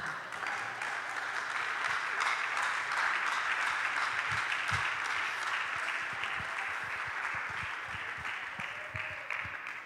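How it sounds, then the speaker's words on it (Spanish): A church congregation applauds steadily, a dense wash of many hands clapping that fills the room, with a few sharper individual claps standing out and no talk over it. "este hermano se merece un fuerte aplauso"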